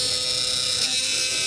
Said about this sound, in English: We got a Bluetooth toothbrush, but it doesn't do all that nonsense.